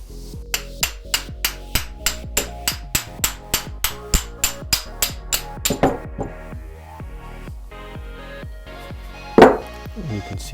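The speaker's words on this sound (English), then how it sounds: "we're going to want to hit here, not on the ball bearing itself, but there's like this little metal piece here that you can kind of see" A metal piece on a Nissan 240SX rear CV axle is struck with a hammer about twenty times in a steady rhythm of sharp, ringing metallic clinks, close and clear, then a few scattered taps and one heavier knock.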